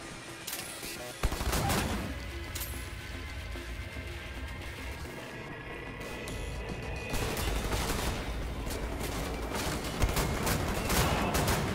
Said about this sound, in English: Let's use our shotguns.